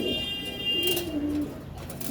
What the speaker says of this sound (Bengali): একটা চান্দিলাল কবুতর মাদি বাচ্চা